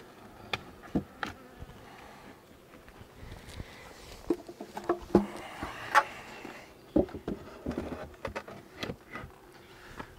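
Honey bees buzz around a tall beehive, a soft steady hum with scattered sharper flybys and ticks passing close, no speech over it.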